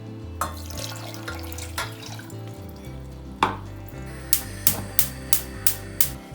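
Water runs steadily into a pot with sugar for syrup, for several seconds, with a few sharp clinks and taps of utensils toward the end.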